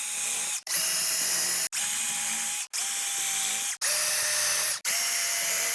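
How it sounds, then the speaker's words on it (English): Power drill countersinking screws into a wooden workbench shelf: six loud, close bursts of high whirring, each about a second long, separated by very short pauses, with the motor pitch sagging slightly under load. "We're going to countersink the screws here."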